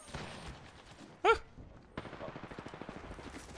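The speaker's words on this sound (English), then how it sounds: "I'm getting shot by three teams" Gunfire in the video game Apex Legends: a sharp burst of shots crackles mid-clip, then rapid automatic fire rattles on steadily to the end, fairly loud over a busy game backdrop.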